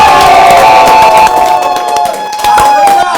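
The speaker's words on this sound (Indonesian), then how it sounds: "Tepuk tangan dong" An audience claps and cheers loudly, with shouting voices and a tonal, music-like sound running through the crowd noise.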